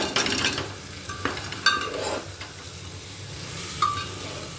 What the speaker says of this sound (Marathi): आता मिक्स करून घेऊया मसाल्यामध्ये